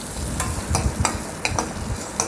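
Small peeled onions sauté in oil in a pan for tamarind kuzhambu, giving a steady close sizzle with light stirring scrapes and soft clicks.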